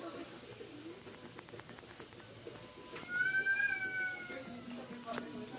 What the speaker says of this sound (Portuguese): tem um gato bem maluco